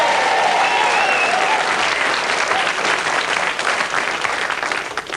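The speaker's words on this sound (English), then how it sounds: "give him a big round of applause" Steady applause from a television quiz show studio audience during Blockbusters in 1987, dense and sustained with a faint whistle riding over it early, tapering slightly toward the end.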